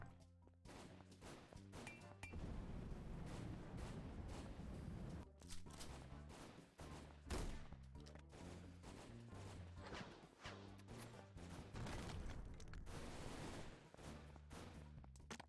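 Corn kernels in a cooking-themed video game shoot out like bullets, producing a dense, continuous burst of rapid gunfire-like pops and crashes over game music, steady and close throughout.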